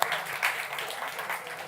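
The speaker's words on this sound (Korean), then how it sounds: "박수 한번 주세요." A church youth group audience at a Sunday service claps together in a brief, fairly close burst of mixed applause, with a voice faintly audible beneath it.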